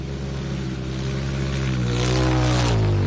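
Ultra4 off-road race car, number 33, roaring past on the Visions Off Road course in Jay, Oklahoma, with a loud engine drone whose pitch sweeps upward as it nears and passes.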